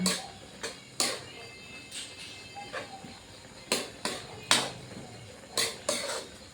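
Pancit canton noodles with chicken and pork being stirred in a pan, a utensil clanking and scraping against the metal in irregular sharp knocks, close and fairly quiet, with no talking.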